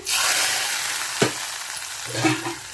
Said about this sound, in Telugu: ఇందులో వేసేద్దామండి పోపుని